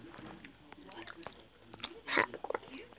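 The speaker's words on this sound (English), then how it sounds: "don't mind the crunching. I'm just eating popcorn" Popcorn being eaten right up close during a Haunted Hunters Halloween game session, with soft crunches and chewing that peak in a louder burst of crunching near the end.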